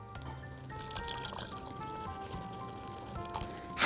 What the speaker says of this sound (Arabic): هنحط بقى دلوقتي شوية مية